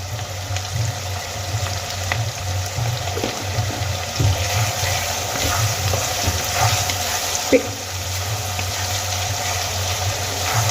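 Onions sizzling in oil with a little salt in a pan, a steady hissing fry with low kitchen hum and a few faint clinks, no talk over it.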